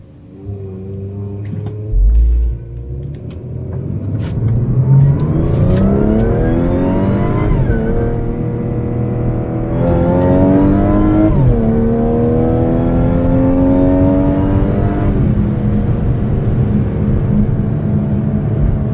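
An Audi SQ5 fitted with a CTS Turbo intake and a supercharger accelerates hard, its engine rising through revs in two long pulls with a climbing supercharger whine and shifts between them, loud and close, no talk.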